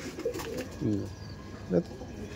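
A single Madras pigeon coos in two low, throaty bursts, one near the start and one late in the clip, against faint background murmur.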